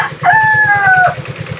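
A rooster among backyard pet chickens lets out a single loud, close crow, drawn out for about a second over a rhythmic low thumping in the background.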